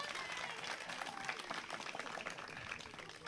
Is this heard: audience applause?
yes